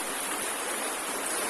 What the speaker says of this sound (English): By the way, this stream will be joining Sharavati.